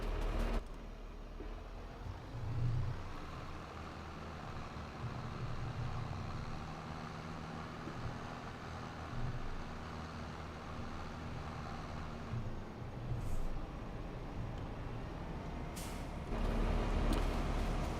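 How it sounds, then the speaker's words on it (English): Tractor driving in Farming Simulator 25, a low steady engine drone with hiss-like air releases and heavier rumbling bursts, moderately loud and continuous, no talk over it. "And let's grab the tractor and bring it over."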